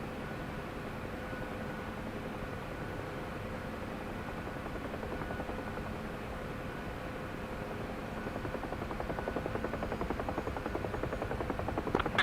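A UH-1 helicopter sitting on the ground in the DCS flight simulator at night, its rotor and turbine producing a steady, loud, continuous whine and thump that grows slightly stronger toward the end.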